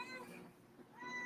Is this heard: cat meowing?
yes